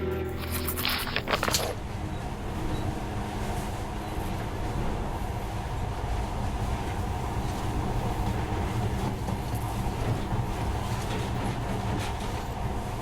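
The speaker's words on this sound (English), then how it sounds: "But now, this monorail seems magic, doesn't it?" A monorail train in the video game Metro Last Light runs with a constant loud rumble and rattling hum that holds steady throughout, after a brief burst of other noise at the start.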